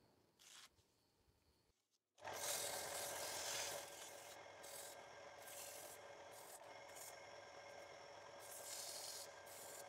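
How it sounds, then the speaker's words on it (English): Sandpaper rubs against the inside of a wood-turned lidded box spinning on a lathe, a loud, steady abrasive hiss that starts after a brief quiet pause and carries on to the end. "Now I'll go on to sanding the inside of the box"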